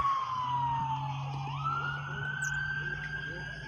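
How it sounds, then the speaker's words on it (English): A police siren wails from a distance, its pitch sliding down and then climbing again, over a steady low engine drone. "Because I can hear sirens."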